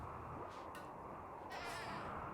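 Sheep bleating in Rimworld, a few short nasal calls over a steady, quiet background hum.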